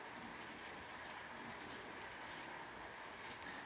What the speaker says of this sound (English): that old Trainmaster had absolutely no problem pushing that train up that hill